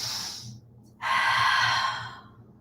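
Steady breathing during a yoga session: a soft airy exhale, a brief pause, then a longer, louder breath drawn out over about a second and a half, close and alone with no talk.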